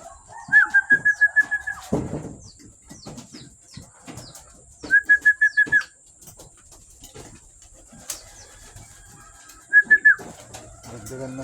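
Pet birds call close by in three short bursts of rapid whistled, cooing notes, separated by quiet gaps with faint rustling and small knocks.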